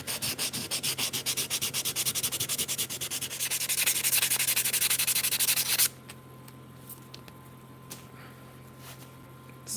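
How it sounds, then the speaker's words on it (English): Hand sanding of wood, apparently over burned lines: a fast rhythmic scratching rub, close and clear, growing into a more continuous hiss before stopping abruptly, followed by near quiet. "the difference between sanding off one and the other."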